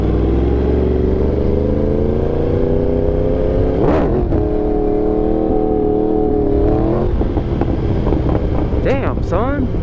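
A Yamaha R1 sport motorcycle engine rumbles loud and close under heavy wind buffeting, with sharp rising revs around the middle and again near the end as the throttle is blipped.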